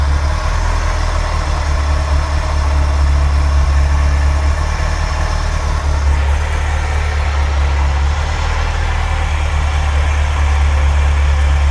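A Ferrari 308 V8 engine idles steadily at close range, all eight cylinders firing evenly, with a deep, constant low rumble filling the whole stretch and no voices over it.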